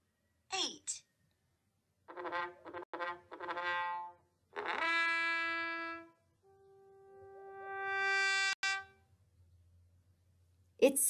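A trombone plays a sustained brass note after a voice and another held tone, set among short spoken phrases in a quiet classroom-style setting.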